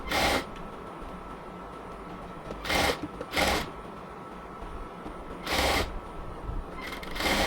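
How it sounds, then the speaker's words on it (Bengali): A sewing machine stitching around the sleeve of a yellow cotton dress, running in several short bursts of a few tenths of a second each, separated by pauses full of faint background hiss. "এবার পুরো হাতাটাকে আরেকবার রাউন্ড করে সেলাই করে নেব।"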